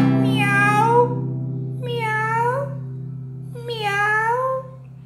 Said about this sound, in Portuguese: O gatinho que se chama Mimi, vem pra perto de mim e faz miau